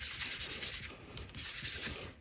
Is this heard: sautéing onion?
no